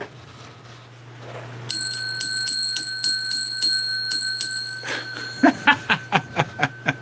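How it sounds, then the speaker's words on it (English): A small desk bell is rung rapidly over and over, bright sustained metallic ringing over a low hum, followed by a run of evenly spaced separate dings. "I got to ring the bell."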